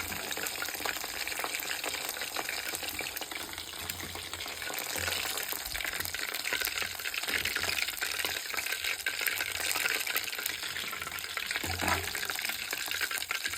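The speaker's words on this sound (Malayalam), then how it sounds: "നല്ലോണം പൊരിഞ്ഞ് വരുന്നുണ്ടല്ലേ" Close, continuous sizzling and crackling of chicken frying in hot oil, steady throughout with no talking.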